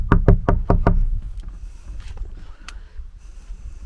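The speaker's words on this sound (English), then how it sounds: "let's go have a little knock and see who's inside" Five quick, loud knocks on a wooden front door styled after a Lord of the Rings hobbit door, evenly spaced in a sharp burst, then a quieter room with faint scattered clatter.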